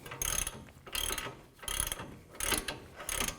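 A wrench ratchets in short repeated bursts while tightening the outer tie rod end on a 2006–2018 Toyota RAV4, with clicking strokes spaced by brief pauses, close and clear, no talk.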